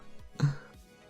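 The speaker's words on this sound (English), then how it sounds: "Athena coughs." A single short cough, dry and close, standing alone in a quiet room.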